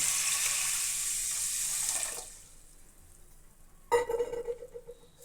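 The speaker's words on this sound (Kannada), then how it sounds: "ಅದಕ್ಕೆ ಒಂದು ಎರಡು ಲೀಟ್ರ್ ಅಷ್ಟು ನೀರು ಹಾಕ್ಕೊತೀನಿ" Water poured from a tap or vessel onto washed horse gram in a pot, a loud close rush for about two seconds that stops, followed by a brief clatter of the pot.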